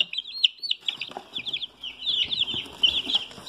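Rhode Island Red chicks, purebred birds, peep and cheep continuously in a box, a dense run of high chirps close by with soft shuffling underneath and no talk.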